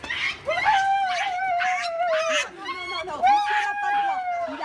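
A dog howls and cries in two long, wavering wails, loud and close, with a short break between them and voices mixed in around the howls.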